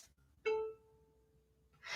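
A soft single pluck on a violin string gives a quiet, thin tone that rings briefly and fades under light background noise, followed by a breathy rustle.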